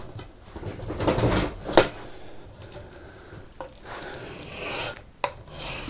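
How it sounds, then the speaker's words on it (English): A double-sided scraper is pulled in even strokes across a lacquered sailboat rudder, giving rough, rasping scrapes in a few uneven bursts, close and moderately loud, with no talking. "So now that we've let it set, we're going to go ahead and scrape it."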